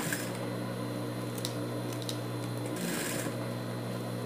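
A sewing machine runs steadily, stitching around the felt-lined sole of a small dog shoe, a continuous close mechanical whir with a few brief clicks over a constant hum.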